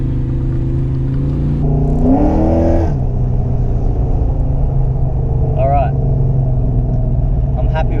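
Holden VN Commodore with an LS1 V8 and 3.9 diff gears accelerating hard, a loud droning engine heard from inside the car, with a brief rising rev surge partway through.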